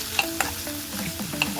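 Onion fries in a pan with a constant sizzle, marked by several sharp clinks and scrapes of a spoon stirring against the metal.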